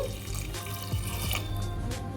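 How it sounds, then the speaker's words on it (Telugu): Water is poured into a cooking pot while drumstick rasam is made, a brief, close, continuous splashing stream that runs from start to finish. "ఇప్పుడు ఇందులోకి టూ గ్లాసెస్ దాకా వాటర్ వేసుకోవాలండి"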